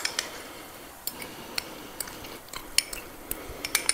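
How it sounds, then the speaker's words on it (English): Garlic is broken up in a pan for garlic mash, heard as sparse, light metallic clinks and taps of a utensil against the pan, faint and irregular over a quiet background. "I'm just breaking up some of the garlic before I put it in"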